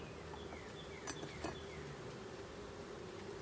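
Faint, close buzzing of honeybees around an opened hive during an inspection, a soft continuous hum with a couple of brief louder passes near the microphone.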